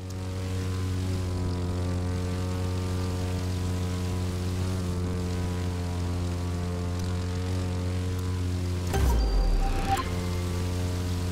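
Propeller airplane engine drone in The Crew 2 racing game while flying low over treetops, a steady loud humming tone throughout, briefly broken by a sharp rough disturbance near the end before the drone resumes.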